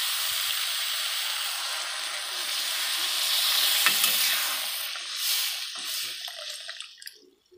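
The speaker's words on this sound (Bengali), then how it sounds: "এটা কষানো হয়ে গেছে, এবার জলটা দিয়ে দেবো। পরিমাণ মতো জল দেবো।" Water poured into sizzling ghugni masala, a loud hissing sizzle that swells as the water hits, then gradually quiets into softer bubbling and a few faint clinks.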